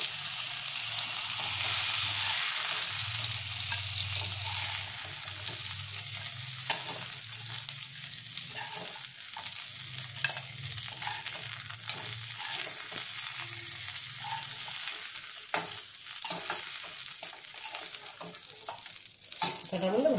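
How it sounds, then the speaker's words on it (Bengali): Crab sizzles steadily as it fries in hot oil in a home kitchen, a continuous close crackle with occasional stirring scrapes and no voices. "লাল লাল করে ভালো করে ভাজতে হবে কাঁকড়াটা"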